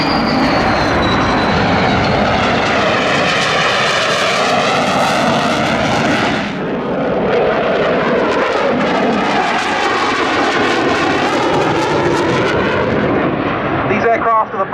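A French Navy Dassault Rafale jet comes down to land at the Yeovilton air show, its loud engine roar sweeping and shifting in pitch as it passes close, with a commentator talking over the noise.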